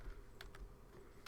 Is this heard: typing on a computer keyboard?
yes